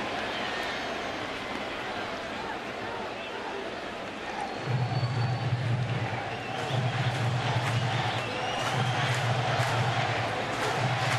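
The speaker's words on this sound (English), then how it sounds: "Oh, this crowd is alive." Baseball stadium crowd at a Phillies–Mets game, a broad steady roar of fans with rhythmic low pulses of stamping or chanting rising partway through, under an announcer's talk.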